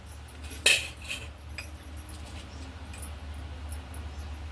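A spoon clinking against a bowl while adding sugar to dhokla batter: one sharp metallic tap followed by a couple of softer knocks, then quiet kitchen background, close and without speech.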